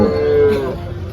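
A cow gives a single loud, close moo at a busy cattle market, a sustained low call lasting most of the moment before fading into background murmur.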